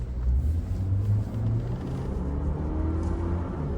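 A GWM Tank 500 accelerating on a test drive in normal mode, with a loud, steady engine rumble and road noise that build and hold for several seconds, heard from inside the car with no talking.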